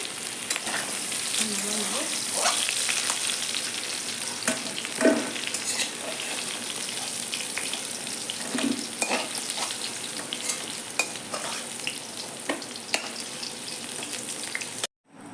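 Food frying in a wok for a jackfruit curry, heard as a steady, moderately quiet sizzle punctuated by occasional stirring clacks, ending abruptly.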